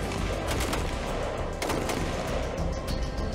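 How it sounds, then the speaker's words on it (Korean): Rifle fire at a military shooting range during a JSA guard battalion ten-round drill, loud dense overlapping shots crackling continuously with no pauses. "10발 사격개시."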